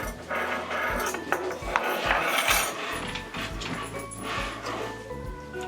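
Rainbow glitter glue slime is stirred in a bowl at a kids' crafting table, giving a run of close clicking, clinking and scraping strokes in an uneven rhythm.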